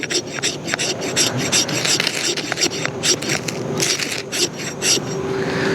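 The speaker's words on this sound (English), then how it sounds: "Let's just see if we can get any sparks for that thing scraping." A knife blade scraping along an Exotac Fire Rod XL ferro rod, giving a continuous rough rasping with repeated sharp strokes, close and fairly loud, with no talking.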